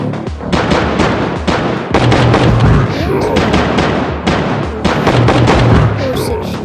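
Rapid, loud gunshots in a Johnny Trigger mobile game boss fight crack out in dense bursts with brief pauses, up close and almost continuous.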